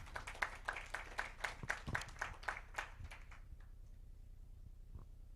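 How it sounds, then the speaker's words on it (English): Audience at a university and TVET mentorship programme event clapping in a brisk, steady burst of applause that stops after about three seconds, leaving near silence with one last faint clap. "Let's give him another round of applause."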